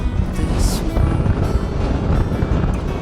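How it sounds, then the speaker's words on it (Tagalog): Strong wind buffets the microphone aboard a boat off Boracay, loud gusty rumbling and roaring with a faint whistle, continuous over the whole moment. "Lakas ng hangin."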